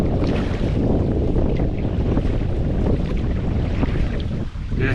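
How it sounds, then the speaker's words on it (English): Strong wind roars across a kayak on the Muskegon River in Michigan, a loud, continuous rushing buffet against the microphone with no pauses and no voices. "It's a little breezy."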